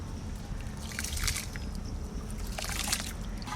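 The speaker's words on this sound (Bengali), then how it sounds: "এবার এই খুদের চালটা আমি গরম জলে দিয়ে দেবো" Broken rice grains (khud) tipped into a pot of hot water, a soft wet sloshing and dribbling with a brief splash of grains, close and fairly quiet, no talking.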